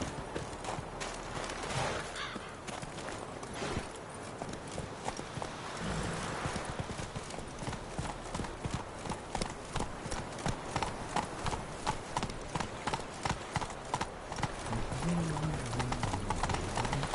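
A horse in The Witcher 3 clip-clops along at a steady, rhythmic pace, the hoofbeats sharp and regular for the whole stretch, with game ambience beneath and an occasional snort.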